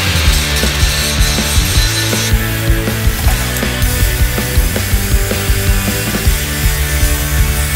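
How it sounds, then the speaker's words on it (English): A flap disc grinding welded steel caps smooth on tube ends makes a loud, continuous abrasive roar with rhythmic rubbing pulses, close by and unbroken throughout. "I weld this on and then I'm going to grind it off and then the flap disc to make it nice and smooth."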